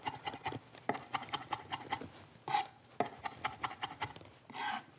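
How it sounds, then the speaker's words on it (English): A knife rough-chopping herbs and stems on a cutting board while preparing salsa, a quick steady run of close, crisp taps on the board with brief pauses and a couple of louder scraping bursts. "This I'm just gonna give a nice little rough chop."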